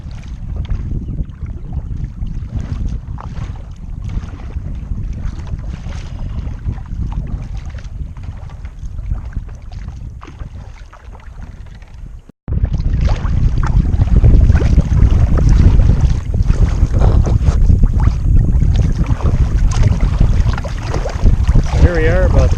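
Kayak paddling across a bay on Cass Lake, a constant rush of water and wind noise that jumps louder halfway through after a brief cut, with strokes blurred into the wash and faint talking underneath.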